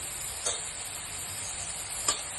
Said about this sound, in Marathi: आता आपण त्याच्यात मसाले घालूया.